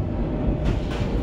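An EMU passenger train runs early in the morning on a Chennai-area line toward Arakkonam, giving a loud, steady rumble of rolling wheels with a couple of brief rattling bursts and no talking.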